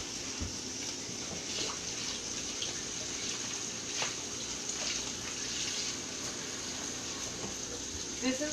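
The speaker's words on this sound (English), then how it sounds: "I'm going to give it a quick rinse" Tap water runs steadily over fresh cilantro being rinsed in a kitchen sink while cooking sopes and rice, a continuous, moderate gush with faint handling noises throughout.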